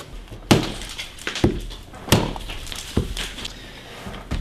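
Plaster mask mold being smashed to pieces, a series of sharp cracking and breaking impacts roughly every second, loud and close with crumbling debris between hits.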